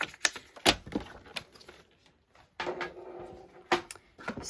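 A paper trimmer cuts cardstock for a handmade card, giving sharp clicks and snaps and a brief slicing swipe with a quiet gap in the middle.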